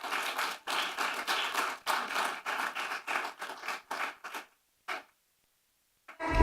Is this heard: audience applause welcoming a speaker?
yes